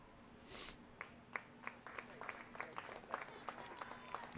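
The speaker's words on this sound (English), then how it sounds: "Nice hand from the crowd here." Scattered applause from spectators at a 2022 girls high school soccer game, Columbia City at Northrop, with sparse individual claps rising into a light, uneven patter at a distance.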